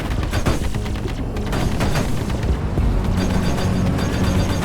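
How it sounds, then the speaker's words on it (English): Spaceship weapons fire in the Star Citizen Arena Commander combat tutorial: loud, dense, rapid bursts of energy shots and booms, continuous and near. "Fire in controlled bursts. Give your weapons time to cool, or they'll overheat."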